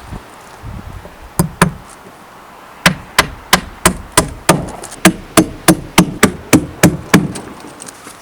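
Hammer blows drive nails into timber for a post and beam garage's wooden roof, two early strikes, then a steady run of about fifteen sharp, evenly spaced close-up impacts with light rustling between.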